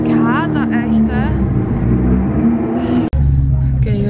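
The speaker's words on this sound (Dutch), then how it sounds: "Met de motor van uw auto. Is die luid of wat?" A car engine idles with a loud, steady low rumble inside a garage, with a voice talking in Dutch over it and a brief cutout near the end.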